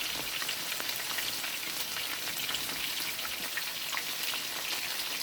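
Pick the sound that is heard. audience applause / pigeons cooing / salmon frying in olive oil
salmon frying in olive oil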